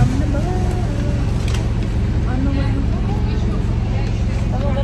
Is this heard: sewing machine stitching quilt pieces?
no